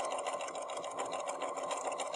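A sewing machine back-stitches the edge of a reusable tote bag, running as a steady continuous whir at close range with no voices.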